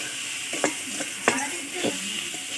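A spicy magur fish curry is stirred in a pan, several distinct scraping strokes of the spoon over a steady background sizzle, close and unaccompanied by talk.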